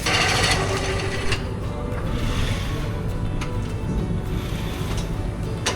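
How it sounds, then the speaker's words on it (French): A cheese-cellar robot lifts rounds of cheese off wooden shelves and brushes them, making a continuous mechanical whirring and rumbling drone with faint clicks and scrapes layered over it, steady and moderately loud. "la machine qui prend les fromages qui sont sur les tablards et qui les prend pour les brosser"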